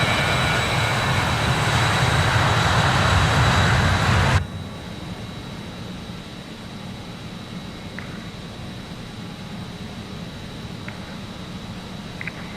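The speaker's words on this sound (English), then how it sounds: "The aircraft taking off." Steady roaring rush of an airliner's engines during takeoff in Microsoft Flight Simulator, loud and constant before abruptly dropping to a quieter hum with faint faint clicks.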